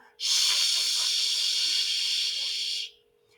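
Children blow a long, loud, steady hiss together, imitating rocket exhaust, lasting nearly three seconds before cutting off.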